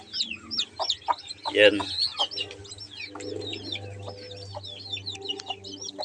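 Newly hatched crossbred chicks peep in high, rapid, chirping bursts, close and fairly loud, with a deeper hen cluck and a brief spoken word near the start over a low background hum.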